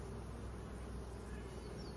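Honeybees buzz steadily on a hive frame as a beekeeper removes queen cells: a constant, close, even hum with no pauses and no voices.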